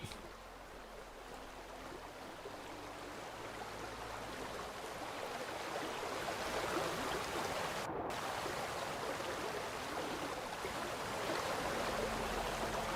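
A waterfall in the video game Vintage Story rushes as a steady broadband wash that slowly swells louder and stays constant throughout, with no speech.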